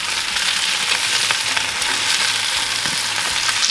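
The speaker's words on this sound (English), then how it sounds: "Now we're just gonna add in our clarified butter." Clarified butter sizzles in a skillet around a steak with a dense, steady, loud frying hiss close by, along with faint low clatter from the pan, and no one speaks.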